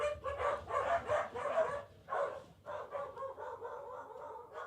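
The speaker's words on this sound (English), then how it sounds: "dogs are going crazy" Several dogs bark excitedly in a rapid, overlapping series, fairly loud and close, with brief pauses between bursts and no talk over them.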